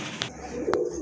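Pigeons coo softly at a nest while feeding their chicks, two short, faint calls close by in a quiet space.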